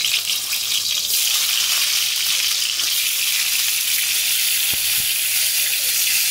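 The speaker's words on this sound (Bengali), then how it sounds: "পটলগুলোকে ভালো করে ভেজে নিয়ে ফিরে আসছি" Pointed gourd slices fry in hot oil with a loud, steady sizzle that runs unbroken throughout, close by and with no voices.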